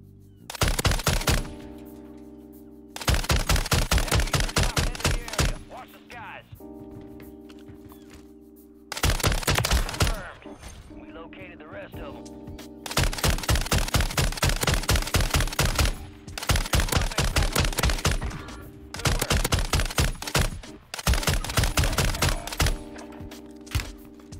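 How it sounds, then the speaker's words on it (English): Rapid automatic gunfire in the Warzone battle royale game, several long sustained bursts of rattling shots separated by short pauses, loud and close throughout. "Shooting at me."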